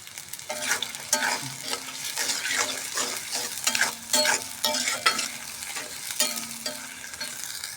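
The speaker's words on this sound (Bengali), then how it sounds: "পেঁয়াজ আর রসুন দিয়ে দেবো। কয়েকটা শুকনো মরিচও দিয়ে দেবো গোটা গোটা" Onion, garlic and whole dried chillies frying in hot oil for vegetable khichuri, a close, steady sizzle broken by repeated scraping stirs of a spatula against the pan.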